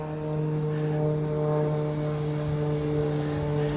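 A 1/48 scale UH-1 Huey RC model helicopter flies nearby, giving a steady, loud electric whine with tonal hum that holds constant throughout.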